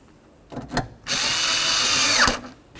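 A power drill drives bolts back into the door of a 1988–2000 Chevy K1500 pickup. Two short taps are followed by a sustained, loud whirring run of over a second that winds down sharply at the end.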